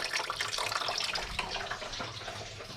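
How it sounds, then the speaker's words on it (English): Coolant drains steadily from a 2013 Toyota RAV4 with its cap removed during a water pump replacement. The liquid gives a continuous, fairly faint splashing trickle throughout, with no voices. "Okay, now it's draining a lot faster."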